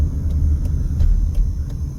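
Engine of a roofing tar truck idling in traffic at a Las Vegas intersection, a steady low rumble held close throughout with slight surges and no talk.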